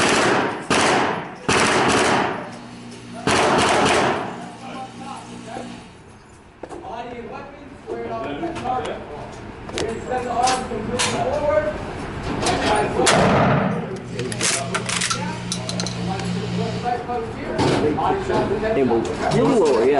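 Shotgun fired repeatedly at a shooting range in Las Vegas, loud sharp blasts spread across the clip with mechanical clacks between them, mixed with people talking.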